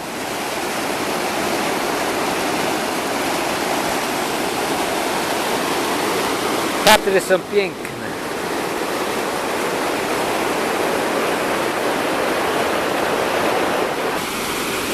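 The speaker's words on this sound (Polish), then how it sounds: "Jestem pod wodospadem. Śliczny, śliczny wodospad." A waterfall in the Tatra mountains roars as a steady, loud, full rush of falling water throughout, with a brief spoken remark partway through.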